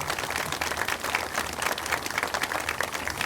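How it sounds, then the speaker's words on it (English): Quiet, steady applause from an audience at an outdoor Oklahoma Medal of Honor memorial dedication, with many hands clapping in a continuous patter that sounds somewhat distant. "I would like to give them a great applause"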